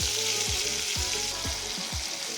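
Tomatoes fry in a pan with a steady broadband sizzle, while a utensil stirs them in about five regular strokes whose scrapes repeat roughly every half second. No one speaks.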